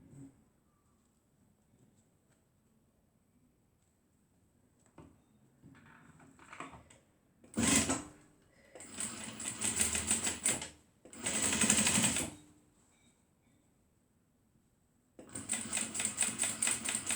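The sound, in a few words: sewing machine stitching a waist bag handle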